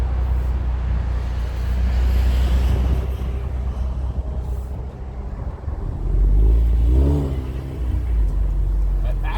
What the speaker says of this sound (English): Do a little bit of revving as I drive here just so you can get a feeling for what it sounds like.